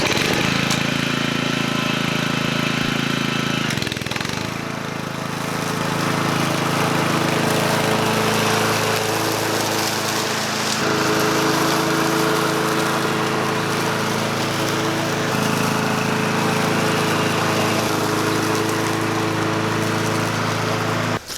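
A gas-powered lawn mower runs loudly and steadily while bagging leaves on a lawn, its engine drone nearly continuous with one brief dip in load, and no voices.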